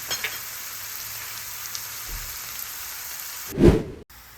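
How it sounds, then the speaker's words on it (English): Onions sautéing with cumin seeds (zira) in a pan give off a steady, soft hiss throughout, broken near the end by a single louder clunk. "We had put them in with the zira just so that we can saute them"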